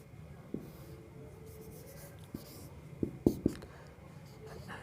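Pen scratching on paper during an engineering drawing lesson, faint scattered strokes and a few sharper taps, with someone talking quietly over it.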